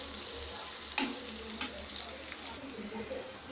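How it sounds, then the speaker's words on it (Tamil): Onions sizzle and fry steadily in a pan for egg kulambu, with occasional stirring scrapes and clinks over a constant hiss. "இதை அதோடு சேர்த்து நல்லா வதக்குங்க."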